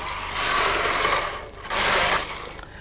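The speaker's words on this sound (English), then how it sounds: "you remove the lace carriage back to the left side of the machine and you knit the 2 rows you forgot" A Brother KH950i knitting machine carriage slides across the needle bed, knitting rows with two long, loud mechanical rasping sweeps separated by a brief pause, no voices.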